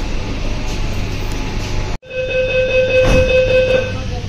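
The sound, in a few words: Kolkata underwater metro train starting to move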